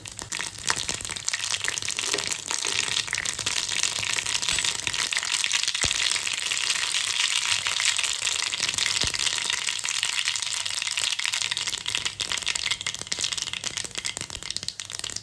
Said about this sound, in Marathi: पहा, आता मोहरी छान तडतडून अशी शांत झाली।